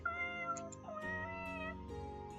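A cat meows in a few drawn-out, tonal calls, close and fairly soft, set against gentle background music.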